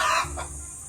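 Turkeys on a farm give a short, loud burst of throaty gobbling calls up close, then fade to softer low calls within a second.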